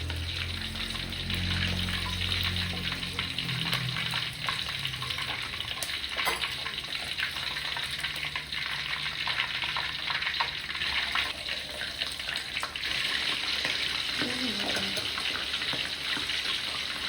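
Fish sizzles in hot oil in a wok, a steady hissing crackle that runs nonstop at moderate level, with a low rumble fading early on.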